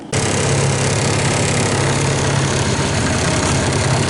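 A car engine runs steadily and loudly while driving, a constant close-up drone with no pauses, on the way to an amusement park.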